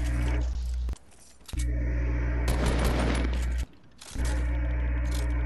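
Bursts of automatic gunfire from a Fortnite match, loud and dense, stopping twice for brief gaps before resuming, with no voices.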